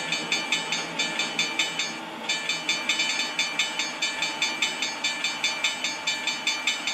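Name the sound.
tram passing a railroad grade crossing in the Trainz video game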